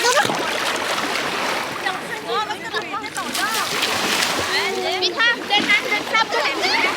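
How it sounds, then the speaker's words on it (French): People splash into water outdoors at sunset, with churning splashes and sloshing close by under excited chatter and shouts from several voices. "Allez, on va dans l'eau."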